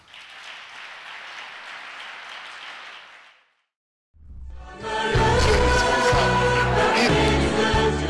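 Church congregation acclaiming the Lord: a few seconds of steady clapping, a short pause, then a loud burst of applause mixed with music and voices.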